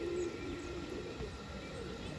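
Pigeons kept by a breeder coo softly in the background, a faint low murmur of calls under steady ambient noise, with a brief brighter call near the start.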